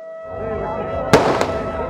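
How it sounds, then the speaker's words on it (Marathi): Firecrackers and fireworks at a temple chariot festival for a goddess, two sharp bangs crackling close by over a steady festive crowd hum and background music. "फटाक्यांची आतषबाजी आपण पाहतोय आपल्या व्हिडिओमार्फत"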